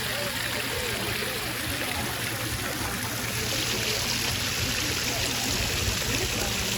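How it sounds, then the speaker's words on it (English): A small waterfall in a garden pond keeps up a continuous splashing, trickling rush, close and steady throughout with no pauses. "So she's got a little waterfall there."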